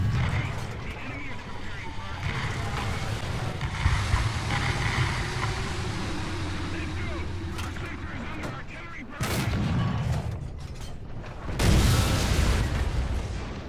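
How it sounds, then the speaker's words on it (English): In the War Thunder tank game, artillery dropped by a Sherman lands as booming explosions and rumbling blasts that come and go over about fourteen seconds, mixed with gunfire and a voice talking throughout. "The Sherman is dropping artillery on him and has damaged his cannon barrel yet again"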